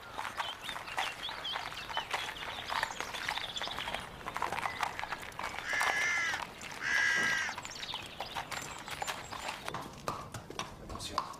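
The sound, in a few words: horse being led, hooves clip-clopping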